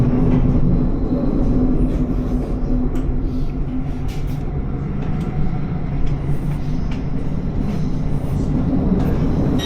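Steady rumble and rolling clatter inside a moving Thameslink passenger train in London, a loud continuous hum of wheels on track with faint rattles and no clear speech.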